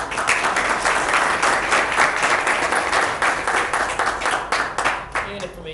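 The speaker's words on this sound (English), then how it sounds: "so we have a round of applause for them." A school board meeting audience gives a sustained round of applause and clapping, loud and dense throughout, with some voices mixed in the crowd.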